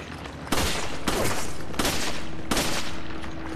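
Four loud gunshots ring out in Resident Evil 5, spaced about a second apart, each a sharp crack with a long echoing tail that fades into the next.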